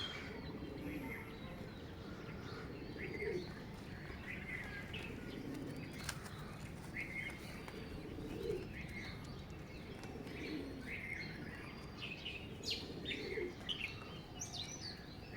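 Oman blood-line teddy pigeons kept in a loft coo softly in repeated low phrases, mixed with scattered chirps from other birds over a faint steady background.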